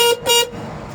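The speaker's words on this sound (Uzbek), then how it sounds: "Signali." A Muravei cabin motor tricycle's horn honks twice in quick succession, loud and close, each beep short and bright.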